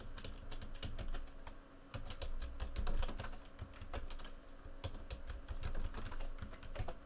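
Someone types a password on a computer keyboard while setting up a Raspberry Pi 3 web server, a close, quiet patter of irregular key clicks in short bursts with brief pauses, no talking.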